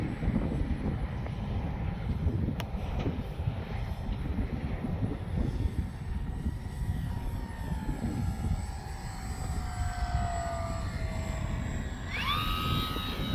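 A Dynam Me Bf-109 RC model warplane flies overhead. Its electric motor whines and shifts pitch in rising and falling sweeps over steady wind buffeting the microphone, nearer at the end.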